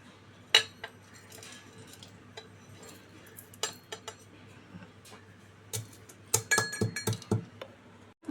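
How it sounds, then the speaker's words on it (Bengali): Whole spices for a prawn malai curry are pounded in a metal mortar and pestle, giving sharp clinking strikes, a lone hit early, then a few scattered knocks and a quick burst of repeated clanks near the end, close and fairly loud. "এই তেজপাতা বাদে বাদবাকি সমস্ত মশলাগুলো আমি একটু হামানদিস্তাতে কুটে নেব"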